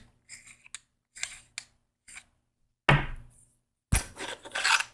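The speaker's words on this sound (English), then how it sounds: "we can come over here, unscrew this pommel" The pommel of a Neopixel lightsaber hilt is unscrewed by hand, giving short scraping metal thread rasps in separate bursts with silent gaps, ending in two louder, longer grinding turns up close.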